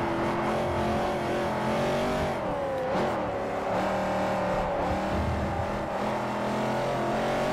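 A Chevrolet race car laps Sonoma in Forza Motorsport 4, its engine a loud, continuous, close drone that rises and falls with shifts and revs for several seconds, with no talk over it.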